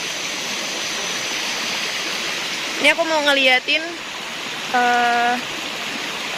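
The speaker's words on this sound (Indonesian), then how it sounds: "perbatasan air terjun pertama dengan air terjun kedua yang udah ditutup" A forest waterfall rushes steadily as loud, constant broadband hiss on a camping hike, with someone speaking briefly over the flowing water.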